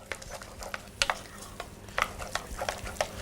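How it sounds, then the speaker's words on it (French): Eggs being worked into choux pastry dough with a spatula, giving soft wet slapping and scraping strokes in an irregular rhythm, close by and fairly quiet, with no talking. "c'est surtout de bien mélanger les œufs"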